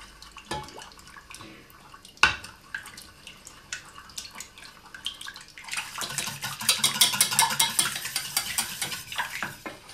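Egg yolks being stirred into a dough for homemade Slovak doughnuts, heard as soft, steady wet mixing and scraping in a bowl, with a sharp knock near the start and busier, brighter stirring through the second half, close up with no talk.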